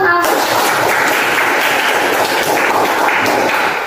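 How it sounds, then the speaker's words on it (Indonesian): Dense classroom applause for a student during a networking lesson on cable connectors, steady and loud clapping for nearly four seconds right after a teacher's quick word. "Tepuk tangan untuk Aldi."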